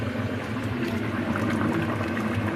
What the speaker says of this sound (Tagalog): Kunting kulo pa guys, kunting kulo pa.